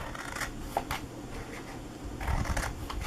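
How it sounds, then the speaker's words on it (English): Paper card stock being cut with scissors or a blade up to score marks while making a double treat box, a quiet, close-up series of soft rustling snips and scrapes with no talking. "I am going to cut up each one of these to the first score mark"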